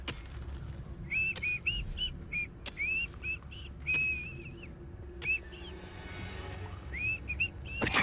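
Short, clear whistled notes repeat in quick bursts within the Hogwarts Legacy video game, standing above a steady low ambient rumble with a few dull thuds.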